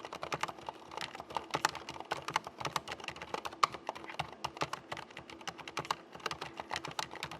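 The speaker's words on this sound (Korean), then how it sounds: "체리사의 MX 스위치가 적용된 게이밍 키보드를 준비했습니다" Rapid, steady clicking of keys on a mechanical gaming keyboard with Cherry MX switches, crisp and close, typed continuously with no talking.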